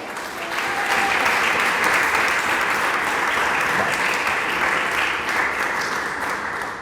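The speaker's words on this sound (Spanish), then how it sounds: "¿Le da palmas al Dios del cielo?" A church congregation claps together during a service, producing sustained, even, fairly loud applause that fades in and tails off after several seconds.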